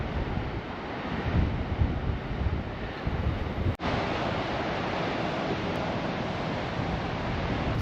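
Strong blustery wind buffets the microphone while waves crash continuously along a cliff-edged coast between Morwenstow and Hartland Quay, a loud unbroken roar.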